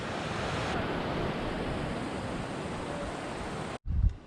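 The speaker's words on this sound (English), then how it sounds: "The glacier feeding the water streams." A glacier-fed mountain stream on the Hampta Pass trek rushes in a loud, unbroken wash of water close by, then cuts off abruptly near the end, where a brief gust or thump follows.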